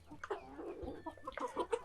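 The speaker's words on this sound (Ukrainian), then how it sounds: "Залишилась в нас білефельдерів тільки одна курочка." A Bielefelder hen clucks nearby in a short run of soft, uneven clucks and throaty murmurs, fairly quiet against a calm farmyard background.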